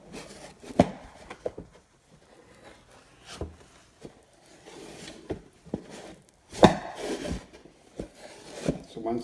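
Wood filler being mixed for a countertop repair: intermittent scraping, tapping and stirring strokes close by, some sharp knocks among quieter rubbing passages, with stretches of near silence between.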